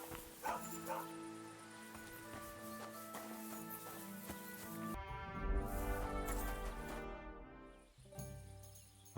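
A dog in the medieval video game Kingdom Come: Deliverance 2 barks and yips several times over background music and ambient game sounds.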